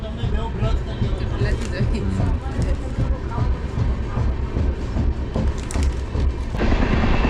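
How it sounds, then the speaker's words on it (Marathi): Rumble and rattle of a superfast express train running at speed between Mumbai and Gujarat, heard from inside a carriage as a steady loud roar, with people talking throughout. "बघा आत्ता कुठे आमच्या ट्रेनने स्पीड धरलेलं आहे"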